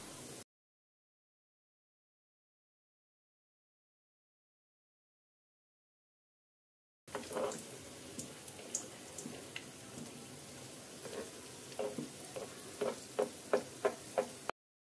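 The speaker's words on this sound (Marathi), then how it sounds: "हे शॅलो फ्राय तसेच डीप फ्राय देखील केले तरी चालतात." After a long stretch of silence, malpua batter fries in a pan with soft, steady crackling and bubbling, broken by a few sharper ticks and pops toward the end.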